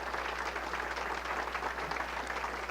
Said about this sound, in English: If we can give a round of applause and thank our panelists